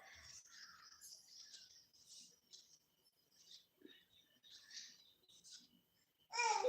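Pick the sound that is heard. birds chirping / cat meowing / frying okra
birds chirping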